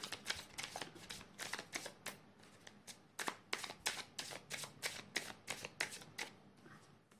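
Tarot cards are shuffled in rapid, crisp bursts, a quick run of riffling snaps repeating steadily for several seconds, close and fairly quiet, with no voice.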